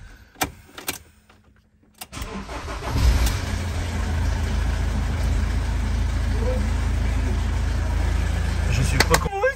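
A diesel engine on a new Citroën Jumper van turns over after a quiet, cluttered moment, then settles into a steady, close, low idle rumble that holds to the end.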